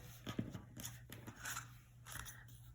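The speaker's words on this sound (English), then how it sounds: "And I wanted to show you then how I cut this out" A paper card for a peony flower design is snipped with scissors, giving several soft, close crisp cuts and faint paper rustling at low volume, with no talk.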